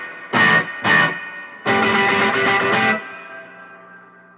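Two short processed vocal bursts and then a longer distorted vocal phrase, heavy with reverb effects, ending in a fading reverberant tail.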